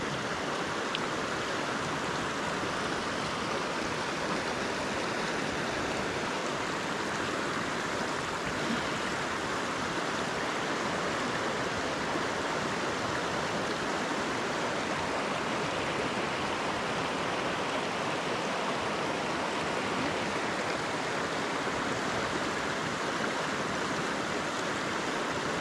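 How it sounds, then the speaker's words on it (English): The main river pours out of Francois Lake in the Yukon wilderness, a steady, full rushing of water that holds at an even level for the whole stretch, close and loud with no voices over it. "this is the main river coming out of Francois Lake"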